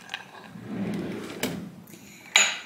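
A drawer in a South African boutique hotel room slides open with a few soft knocks and a brief scrape, followed by a sharper clack near the end, close and fairly quiet.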